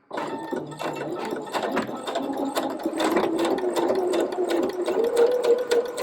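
Domestic sewing machine running a collar seam on a Peter Pan collar blouse, a close, continuous rhythmic clatter of needle strokes that keeps an even speed for six seconds.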